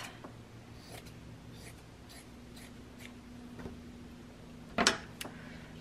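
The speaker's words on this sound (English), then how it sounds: "I'm just gonna cut some cheesecloth" Scissors cut through cheesecloth in a few quiet snips over a faint background hum, followed by one sharper, louder snip near the end.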